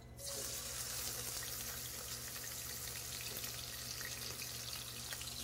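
White onions sautéing in melted fat for refried beans, a steady broadband sizzle running loud and continuous from just after the start, with no talking.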